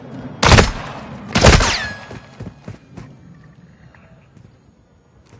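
Gunfire in a video game, two loud close bursts about a second apart, then scattered fainter shots and thumps fading out, with no talk.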